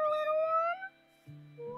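A cat in the video game Minecraft gives a short, clear meow, a rising then falling tone close and alone, followed by a quieter second mew.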